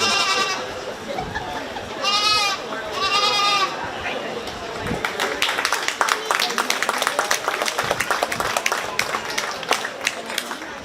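Goats bleat at a 4H goat show at a county fair, with several loud, wavering bleats early on, then applause and clapping from the crowd while a voice carries over the arena.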